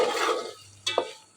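Ground onion paste roasting in hot oil for a masala curry, a soft sizzle fading after a moment, then two quick scrapes of a spoon against the pan.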